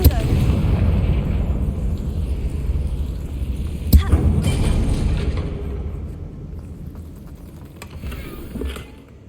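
A Confringo fire spell explodes in Hogwarts Legacy, with a sharp blast at about four seconds that rises out of a dense, rumbling game background and then fades. Softer bursts follow near the end.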